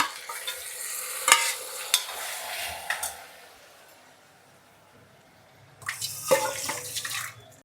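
Chicken, tomato and mint frying in a pressure cooker: soft sizzling with clattering stirring strokes, bursts of scraping early and again near the end, quieter in between.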